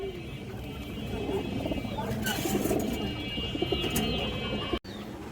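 Pigeons, including a large Bagha pair, cooing among a mixed flock, their soft throaty coos running under someone talking over them, with a brief dropout near the end.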